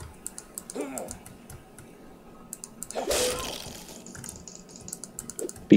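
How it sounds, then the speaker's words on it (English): Computer keyboard and mouse clicks during online gaming, bursts of light tapping close to the microphone, interrupted midway by a louder muffled noise. "I can hear you clicking, like so many times"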